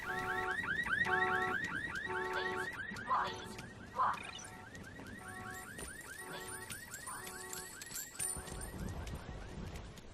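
Several car alarms wail at once in the video game Halo 3 ODST, with repeating warbling electronic sweeps and siren tones layered over each other, loud and continuous, along with a few sharp thuds.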